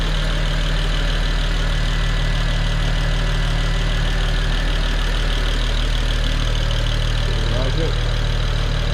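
A BMW 335i engine idling smoothly and steadily, a loud, close, continuous low hum with a faint voice in the background.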